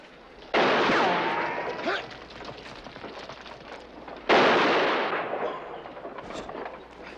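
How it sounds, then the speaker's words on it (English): Two loud gunshot blasts about four seconds apart ring out in a Western shootout from the film Westworld as John guns down the sheriff, each report followed by a long echoing decay with scattered crackle. "John shoots him dead right there"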